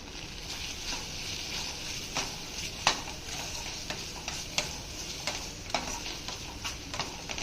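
Spinach, crushed and tossed into a frying pan, gets stirred with a faint low sizzle and light scattered taps and scrapes of a spoon, quiet and without speech.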